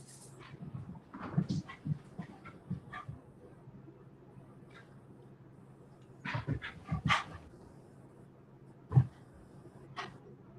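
An excited dog running in circles gives scattered short barks, yips, whimpers and panting in sporadic bursts against a quiet indoor background, fairly close, with gaps of near silence between.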